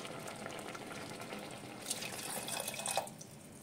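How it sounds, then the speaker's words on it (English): Water from a tap is poured into a pot of simmering vegetable soup with carrot, beans and bouillon outdoors in Finland's Nuuksio forest, a soft splashing fill that swells near the end over quiet background noise. "Now we must add more water."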